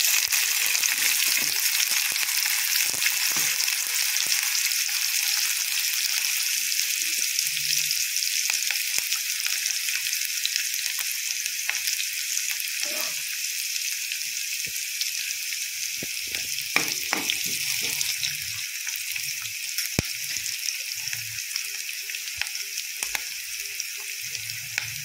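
Onion with cumin seeds fries in oil for a Maharashtrian carrot bhaji, giving a steady, loud hiss of sizzling that runs throughout, with occasional stirring clinks and scrapes and no talking.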